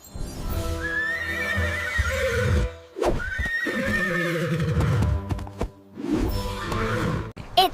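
A horse whinnies repeatedly and loudly nearby, three drawn-out neighs broken by brief pauses and a few sharp knocks, with no talking.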